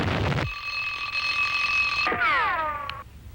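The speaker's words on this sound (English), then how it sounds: "the alarm went off" A cartoon alarm clock in The Rocky and Bullwinkle Show rings with a steady, shrill tone for a couple of seconds, then warbles downward in pitch before stopping, loud and alone.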